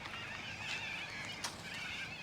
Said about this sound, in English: Whoa! Birds everywhere. Look at them!